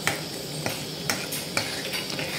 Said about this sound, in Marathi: आणि अधूनमधून असं ढवळत राहायचं आहे, म्हणजे खाली लागणार नाही मसाला आपला.